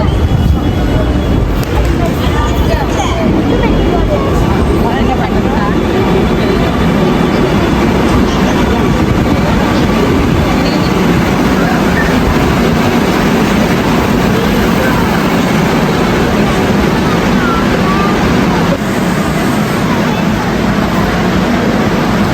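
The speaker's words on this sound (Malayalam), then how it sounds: "അപ്പോൾ ഇതാ മെട്രോ ട്രെയിൻ വരുന്നുണ്ട് കേട്ടോ." A metro train rolling in, heard as a loud, continuous rumble of wheels and motors lasting throughout, close by, with voices talking faintly underneath.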